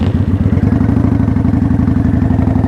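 A motorcycle engine in first gear pulls steadily under throttle, a close, loud, rhythmic low-pitched thump that keeps an even pulse throughout with no talking.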